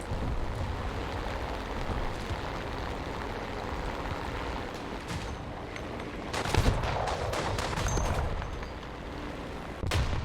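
A vehicle-mounted gun in a video game fires armor-piercing tracer rounds in rapid bursts, sharp cracks layered over a dense rumbling battle din.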